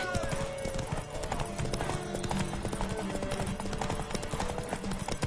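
Horse hooves clip-clop in The Witcher 3, a quick steady patter of hoofbeats running continuously under busy game sound and music, with voices speaking over it.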